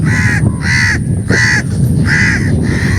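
Several loud crow caws repeat in a steady rhythm, each a harsh nasal call, with a busy outdoor rumble underneath, at a wetland in Bangladesh.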